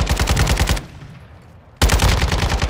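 Rapid automatic gunfire in Call of Duty DMZ, loud and close, in two sustained bursts separated by a second of quieter ambient rumble.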